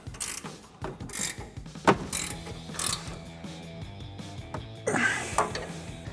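A 19mm ratcheting wrench tightens the nut on a front upper control arm bolt of a Toyota 4Runner being fitted with Old Man Emu arms, giving rapid, close, loud ratchet clicks in repeated bursts over the clip with no talking.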